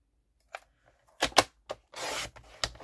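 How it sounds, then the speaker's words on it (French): Scissors cut gingham paper into a strip in a few quiet, separate snips and rustles, followed by a longer rasping slice, close and soft with silence between the cuts. "On va découper ça pour avoir une bande."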